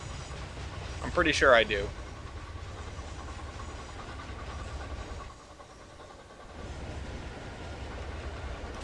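Trains rolling along rails in the railway-building game Locomotion, a steady low rumble running throughout with a brief whistle-like tone early on, while someone speaks over it.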